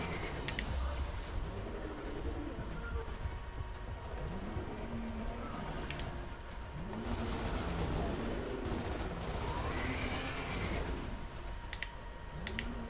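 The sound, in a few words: gunfire in Gears of War Ultimate Edition video game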